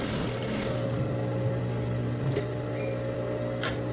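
A sewing machine stitches a trouser waistband seam, a steady close mechanical whir with a low running hum and a few light clicks, continuing alone without speech.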